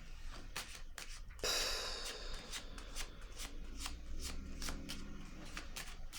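Tarot cards handled, shuffled and laid down close up: a loud riffling burst followed by a run of crisp papery flicks and taps, with no talking.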